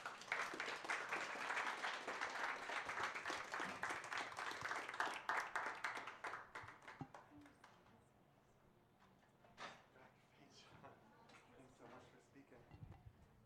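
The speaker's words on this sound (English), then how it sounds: "A round of applause for all the speakers today" An audience gives the speakers a round of applause: several seconds of full clapping that thins and dies away, followed by scattered handling noises and quiet talk.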